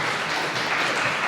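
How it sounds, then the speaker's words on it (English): A conference audience applauds as a speaker on social media protocols is welcomed to the stage, a loud, even burst of many hands clapping throughout. "Please welcome with a round of applause."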